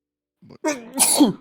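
One person sneezes at close range, a short inhaled catch followed by a sharp, explosive burst.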